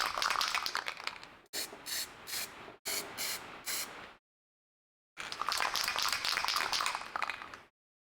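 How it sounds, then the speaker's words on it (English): Spray paint hisses in close bursts onto the metal parts of a scratch-built model merchant wagon, three short sprays, then a pause and one longer steady blast. "I'm not sure how the metal is going to take the spray paint"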